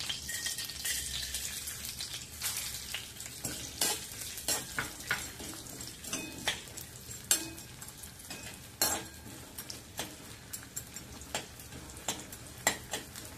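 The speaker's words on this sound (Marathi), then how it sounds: "आता डिंक तळून घ्यायचा आहे चांगला।" Edible gum (dink) frying in ghee in a pan, a faint continuous sizzle broken by repeated clinks and scrapes of a spoon stirring against the metal, quiet and close, with no speech.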